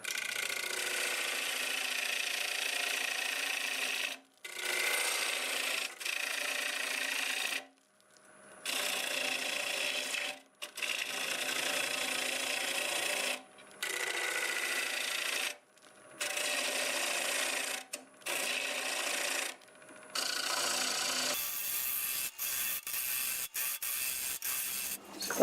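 A wood lathe turning at about 850 RPM as a tool cuts deeper down the inner wall of a workpiece, repeated rasping scraping strokes of several seconds each separated by short pauses, close and steady.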